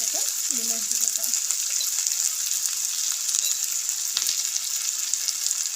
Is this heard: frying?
yes